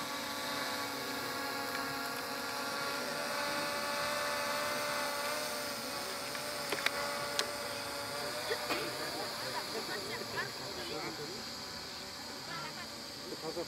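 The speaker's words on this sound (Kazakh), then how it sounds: "Дронды қаяқтан бастайсыз қазір?" A drone hovers outdoors at a large family gathering in a village in Kegen district, giving a steady, high-pitched whining buzz that holds throughout, with faint voices and a few light knocks nearby.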